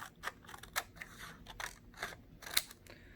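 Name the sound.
scissors cutting strips of scrap paper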